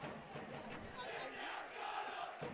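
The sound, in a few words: crowd cheering at high school hockey game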